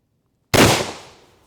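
A single sharp, loud shot from a short-barrelled gun fired at a target rings out alone after silence, then trails off in a brief fading echo.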